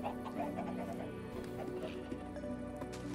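Minecraft chickens in a pen give soft, intermittent clucks layered over a busy, continuous background of game sounds.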